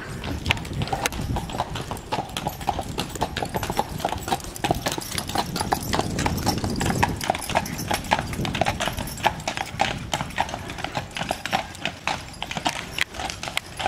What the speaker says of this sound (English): Black horses,